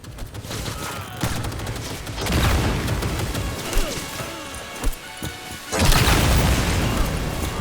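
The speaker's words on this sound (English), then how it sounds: "What kind of grenades do I have? EMP grenade." Loud EMP grenade blasts and heavy combat noise in Cyberpunk 2077, with deep booms and crackling bursts near the start and end over continuous gunfire.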